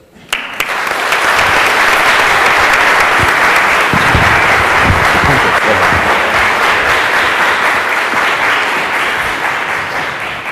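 Loud, steady applause from an audience welcoming Professor Karl Friston to a lecture in Rovereto, a dense wash of clapping that starts abruptly and holds for about ten seconds before easing slightly.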